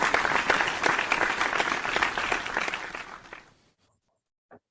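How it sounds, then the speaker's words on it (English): An audience claps after a lecture on autism, face perception and the amygdala, with many hands giving dense, steady applause that gradually thins and fades out over about four seconds. "I was waiting for my cue of the clapping"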